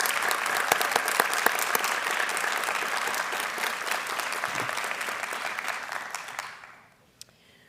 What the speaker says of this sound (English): Ladies and gentlemen, please join me in a round of applause.